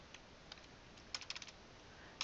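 A command is typed on a computer keyboard as faint, close key clicks, scattered at first and then a quick run of several taps, over quiet room hiss with no voices.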